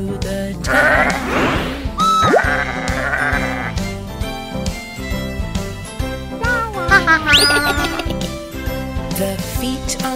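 Sheep bleating in a children's song about a bus, sung as a playful voice imitation over a steady, upbeat backing of music and jingling percussion, with a few bleat-like calls standing out near the middle and end.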